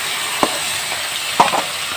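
Kokila fish sizzles in hot oil after being flipped, a steady soft frying hiss with a couple of brief sharper pops, close and alone.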